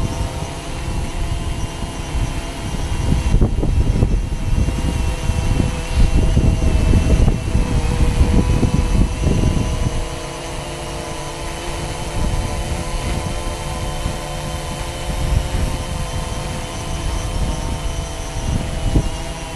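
A DJI Phantom 2 quadcopter drone with new motors hovers close by, a loud steady whine with a rotor roar that surges for several seconds and then settles into an even buzz, with no talking.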